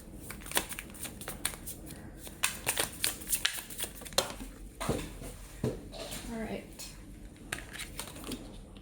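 Tarot cards being shuffled and laid out, a run of quick crisp riffling flicks and slaps in bursts, close by, with light handling rustles between.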